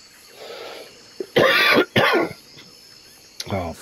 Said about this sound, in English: Oh, pardon me, it's bloody cough.